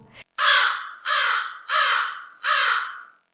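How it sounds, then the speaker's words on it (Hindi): A crow calls four times in a row, loud and near, each caw a harsh drawn-out rasp with short pauses between, alone without any talk. "वे कांव कांव करते हुए झपट्टे"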